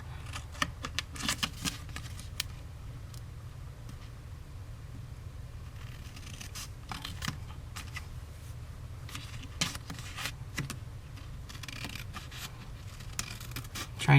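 Paper snips cut along a score line on patterned specialty paper while a small treat pouch is made, giving a run of soft, close snipping and rustling clicks spread across the stretch with no talking.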